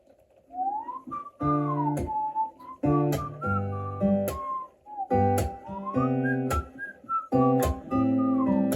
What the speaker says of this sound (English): it starts with a whistle